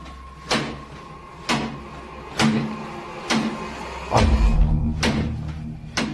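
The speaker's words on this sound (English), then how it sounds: "The culprit in the kitchen cupboard, whose door is banging over and over again" A kitchen cupboard door bangs over and over, about six sharp wooden knocks at roughly one-second intervals, close and loud with a faint hum between hits.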